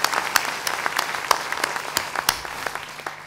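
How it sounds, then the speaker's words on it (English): Audience applause at a prize event's discussion session, sparse and uneven with distinct individual claps popping out over a thinner wash, gradually tapering off. "Please give her a round of applause."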